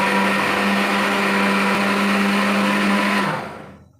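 An Anex grinder blender runs at full speed in a home kitchen, giving a loud, steady motor whine with no voices, then spinning down and fading out over the last half second.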